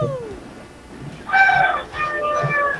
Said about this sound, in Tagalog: Ano yung mga manok na nagtitilawak sa'yo?